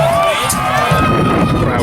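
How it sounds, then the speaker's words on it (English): A crowd at a knights' battle re-enactment at Old Sarum Castle cheers and shouts in a steady, dense roar, with children's voices and flag-waving kids among the spectators, and speech mixed in throughout. "The crowd can cheer various people as well."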